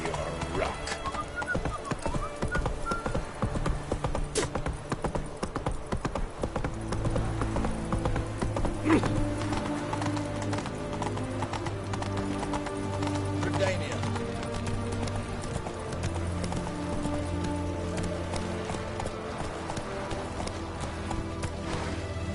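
Roach, the horse in the Witcher 3 video game, clip-clops steadily, her hooves beating in a continuous rhythm at close range under game music. The horse whinnies once, and voices speak.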